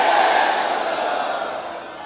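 A large crowd at a PPP political rally in Larkana chants slogans in unison, a loud, dense roar of many voices that slowly eases over two seconds.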